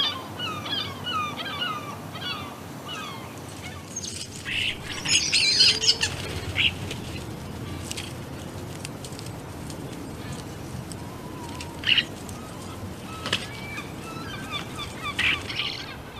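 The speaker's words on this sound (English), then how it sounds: "These seagulls live at the park, on the buildings, and in the local fields." Gulls squawk and call repeatedly outdoors at an inland park, some close and sharp, others distant, over a steady ambient hiss of open air.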